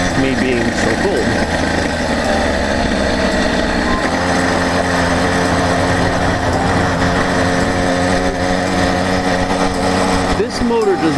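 A 100cc iron-sleeve motorized bicycle engine drones loud and close during a ride, its high buzzing note wavering slightly with throttle over a constant rumble of wind.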